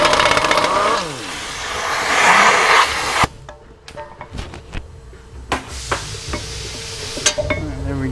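Impact wrench loosening 13/16 brake caliper bolts on a Dodge Durango front end, a loud close rattling burst for about three seconds, then quiet clinks and taps of tools and parts.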